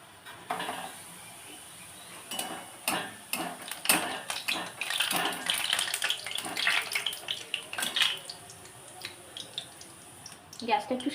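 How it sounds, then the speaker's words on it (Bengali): Pieces frying one at a time in hot oil in a kadai over a gas flame give a steady, crackling sizzle, with scattered clinks of a metal utensil and a few louder pops. "এবার একটা একটা করে ভেজে নিতে হবে এগুলো।"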